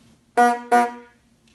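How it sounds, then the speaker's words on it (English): Two short, loud car horn honks in quick succession, each a bright buzzing blast, with quiet background in between. "car horns"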